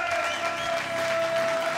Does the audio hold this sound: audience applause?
yes